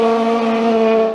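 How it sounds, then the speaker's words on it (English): A high-revving 580cc rotary engine on a Norton racing motorcycle screams past in a brief, steady, tonal whine, loud and close. "racing with fire-spitting 580cc rotary engine bikes"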